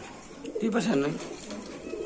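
A brief, low pigeon coo rises and falls once, close by, over faint background noise.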